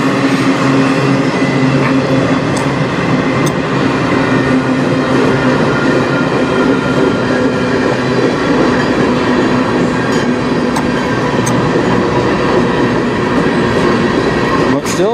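A CP freight train rolls past close by, a loud, steady rumble of wheels and cars with faint rail clatter running unbroken throughout.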